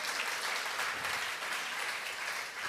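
Congregational applause during a Sunday worship service in a Korean church, a sustained, even roll of many hands clapping, moderately distant and without speech over it.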